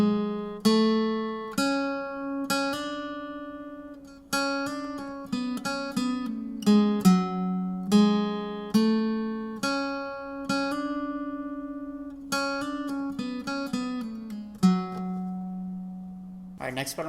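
Guitar picks a section of a song slowly, with clear single notes and small chords ringing out and fading one after another at an unhurried pace, close and fairly quiet.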